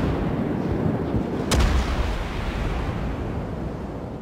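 A deep booming salvo from battleship guns in a naval warship game, one sharp loud blast rising out of a constant low rumble of sea and engine noise.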